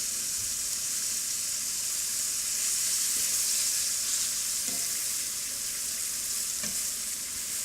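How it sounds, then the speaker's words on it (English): Venison pieces brown in a frying pan with only a thin layer of oil, giving a steady close sizzle and crackling hiss throughout, with a few faint clinks and no talking. "Just let them brown for a minute here, and then we'll turn them over, brown the other side"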